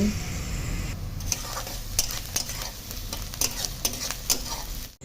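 Chopped onion, grated garlic and chopped ginger sizzle steadily in a pan while a spoon scrapes and stirs them, with loud, close scraping strokes over the constant frying hiss.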